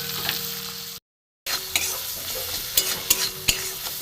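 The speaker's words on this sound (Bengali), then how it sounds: "একটু ভালো করে কষিয়ে দেবো।" Spice paste of turmeric, chili powder, grated ginger, and ground cumin, coriander and pepper fries in a pan under steady sizzling, with spoon scrapes and clicks as it is stirred, broken by a brief gap of silence.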